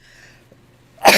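A single abrupt sneeze bursts out close and loud at the end, after a near-silent stretch with a faint tone fading early.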